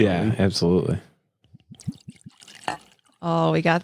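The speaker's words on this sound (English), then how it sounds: "Got to get the pour right into the microphone." Corn-based whiskey poured into a glass close to the microphone, a short run of soft trickling drips between stretches of talk.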